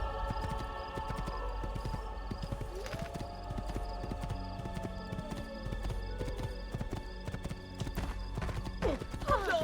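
Galloping horse hooves in Assassin's Creed 2, a fast steady clip-clop rhythm of a ridden horse through a game town, with a neigh or whinny partway through and ambient game sounds beneath.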